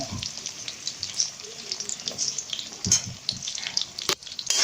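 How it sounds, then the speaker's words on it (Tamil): Small shallots sautéing in a pan over a medium flame, a close, steady crackling sizzle with occasional stirring scrapes and light clinks. "இதை வதக்கிட்டு ஒரு மீடியம் ஃப்ளேம்லேயே வச்சு வதக்குங்க"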